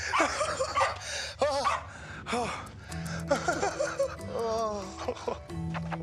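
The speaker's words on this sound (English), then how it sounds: "Oh, good dog." Dog in a tense night scene from the series Reaper, giving short barks, yips and high whimpers close by, with a sharp gasp and brief human sounds between them.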